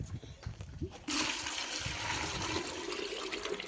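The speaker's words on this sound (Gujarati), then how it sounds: "પાણી નાખી દીધું" Water poured from a vessel onto peeled potatoes for wafers, starting as a sudden steady rushing splash that continues close by after some handling noises.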